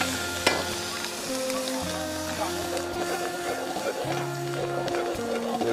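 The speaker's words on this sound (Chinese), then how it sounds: "炒小乌贼啊！" Small squid stir-fried in a wok over a coal-fired stove at a small eatery in Xuzhou, with a steady loud sizzle and repeated scraping stirs of the spatula. A low mechanical hum runs underneath throughout.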